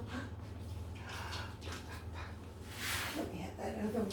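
Dog making soft whimpering and snuffling noises close by, mixed in with a person speaking.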